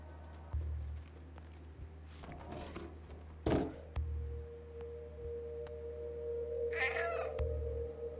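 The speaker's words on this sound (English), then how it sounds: "You can't meow while you're holding something in your mouth." A cat character in the video game Stray gives a short meow over a steady low game hum, with scattered thumps and footstep-like clatter around it and no talking.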